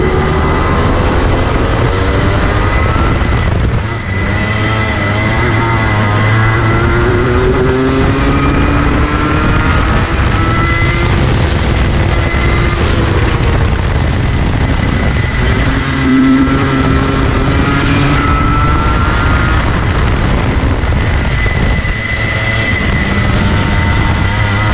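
Rotax racing karts roar around a wet track, with engines loud and continuous and pitch rising and falling as they pass, over steady spray and wind noise.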